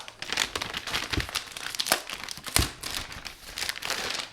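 Dense, continuous crinkling and tearing of plastic and paper packaging as a new Dell XPS 15 laptop is unwrapped, close and fairly loud, with several sharper rips standing out and no talking.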